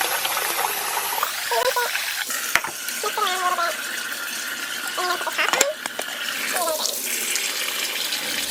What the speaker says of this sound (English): You're gonna put the cold water on. And you're gonna rinse your rice.